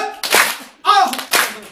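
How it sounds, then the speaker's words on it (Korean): Three separate, loud, close hand claps from an audience counting out slow claps in a Korean class, each a sharp smack with a short decay, spaced evenly about half a second apart. "박수는 이렇게 칩니다."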